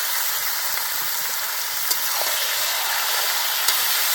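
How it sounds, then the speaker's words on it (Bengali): Chopped onion and garlic sizzle steadily in hot oil alongside chicken in a pan, a dense, even frying hiss with a couple of faint clinks, no voices. "আমি এই যে কয়েকটা পেঁয়াজ আর রসুনটা এর মধ্যে দিয়ে দেবো"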